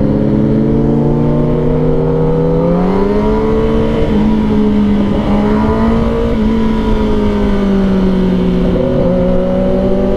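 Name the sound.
motorcycle engine revving while shifting gears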